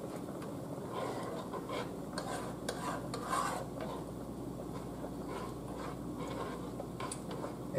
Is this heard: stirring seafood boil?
yes